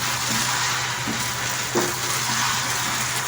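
Peanut paste hitting a frying potato curry gravy in a pan, a loud, dense sizzle that continues unbroken at close range with faint stirring knocks underneath.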